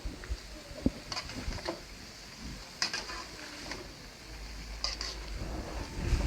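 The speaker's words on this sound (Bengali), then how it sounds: "আর একবার ভালোভাবে এখানে নাড়িয়ে জড়িয়ে দেবো" Seasoned new potatoes are stirred in a frying pan for aloo bhaji, soft sizzling under scattered scraping and clinking of the spatula against the pan, fairly quiet and close.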